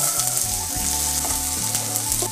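Vegetables fry in olive oil with a knob of butter in a pan, a loud, close, steady sizzle crackling throughout with no talking.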